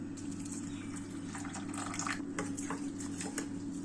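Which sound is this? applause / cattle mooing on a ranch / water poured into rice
water poured into rice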